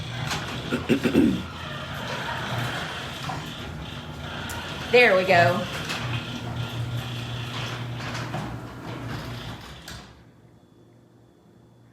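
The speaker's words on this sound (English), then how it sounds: "so we're going to shut the garage door" A garage door is shut, a long mechanical rumble and rattle with a sharper clatter midway that then cuts off to near silence as it closes, while a person speaks briefly.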